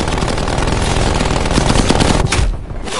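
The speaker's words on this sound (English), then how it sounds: "Sentry turret detected in your area." A sentry turret fires in Call of Duty: Black Ops Cold War, a loud, dense, continuous stream of rapid machine-gun shots that stays close and unbroken before briefly thinning near the end.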